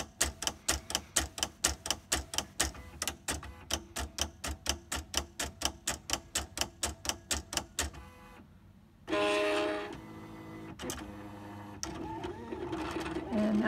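Silhouette Cameo 3 cutting machine working on a printed design: a long run of loud, evenly spaced rhythmic clacks, then a pause and a steady motor whir with some shifting, close by and with no talk.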